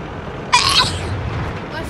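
A single short, sharp sneeze bursts out once, close and fairly loud, over low background game noise from a World of Tanks session.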